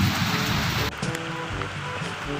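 Heavy rain pours steadily outdoors, a dense close hiss of drops striking surfaces that holds throughout with a brief dip partway through.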